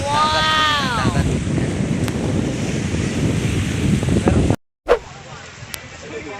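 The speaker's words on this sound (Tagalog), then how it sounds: "Dagat." Sea waves roll in steadily at Bagbag Beach in Sual, Pangasinan, a loud continuous wash of surf heavily buffeted by wind noise across the microphone, with a brief cutout near the end.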